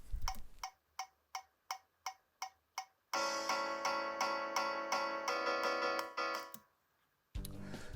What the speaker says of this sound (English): your click track should sound something like this.